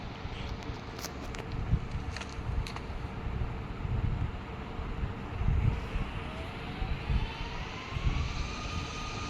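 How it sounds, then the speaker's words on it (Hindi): Jetpack descending in a mobile video game, a steady roaring jet-like engine hum with broadband rush, holding at a constant level throughout with a slowly rising whine toward the end. "अब हम लोग एक हमारा जेट पैक लेके"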